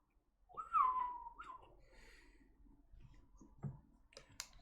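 A single shrill, slightly falling whistle from an orc clan in the fantasy realm of Kagara rings out near and clear for about a second, followed by quiet clicks and faint rustling.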